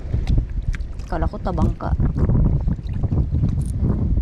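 Strong wind buffets the microphone aboard a small fishing boat at sea, a loud low rumble throughout, with water and boat noises mixed in and someone speaking over it.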